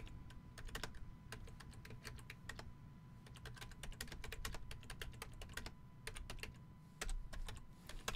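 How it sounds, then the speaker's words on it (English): Rapid keystrokes on a computer keyboard, a steady run of sharp close clicks with brief pauses, alone over a low steady background hum. "Let me type this in."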